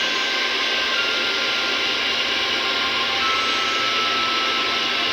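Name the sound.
hairdresser's hair dryer blowing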